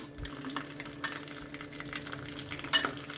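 Mustard seeds and peanuts frying in hot oil for poha, a steady soft sizzle with faint crackles and a few stirring scrapes against the pan, close by, with no voices.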